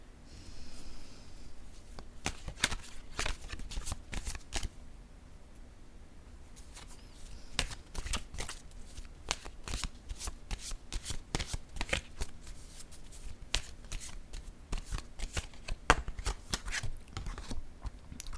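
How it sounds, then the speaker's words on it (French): A deck of playing cards being shuffled before a card is drawn, a steady run of crisp riffling snaps and flutters with a short lull mid-way, close and alone with no talk. "Je vais maintenant piger une carte."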